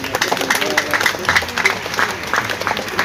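A church congregation at a celebration applauds, a steady spread of many hands clapping at moderate loudness with a few voices mixed in throughout.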